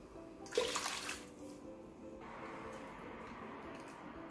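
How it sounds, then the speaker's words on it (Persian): About one and a half cups of boiling water pours into a cooking pot over high heat while making cream puff dough, a short splashing rush followed by a low, steady kitchen hum. "یک و نیم پیمانه آب جوش رو داخل این قابلمه میریزم رو حرارت خیلی بالا."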